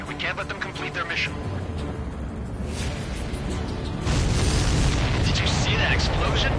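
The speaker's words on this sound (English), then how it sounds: "Did you see that explosion?" A supply ship explodes in a video game with rumbling, booming bursts over loud, dense background noise, and a voice talks throughout.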